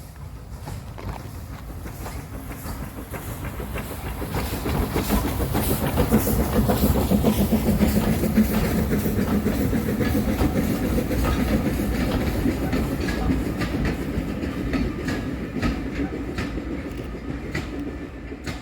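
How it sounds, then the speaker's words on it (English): Tanfield Railway steam locomotive No. 2 hauls a three-coach train north past a steam gala lineside spot, a broad rumble with rhythmic clickety-clack of wheels swelling as it nears and easing off again, with no voices. "watched number 2 pull a 3-coach train heading north"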